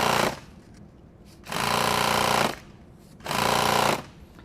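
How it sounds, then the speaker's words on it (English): A sewing machine stitches nylon tactical gear in two loud, steady bursts of about a second each, separated by quieter pauses with faint handling noise. "I'm just gonna line this up right here and sew on the inside bite"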